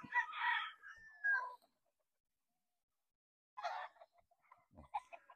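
Kelso breed rooster giving a short crow up close, followed after a pause by a few brief clucks and calls, quiet background between.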